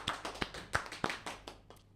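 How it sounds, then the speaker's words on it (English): Sparse, quiet claps during a studio interview, about eight distinct hand claps in an uneven rhythm that fade out after a couple of seconds. "Applause."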